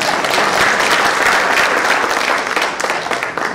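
An audience at a school alumni get-together applauds, a loud, dense round of clapping that fills the whole stretch and tapers slightly at the end.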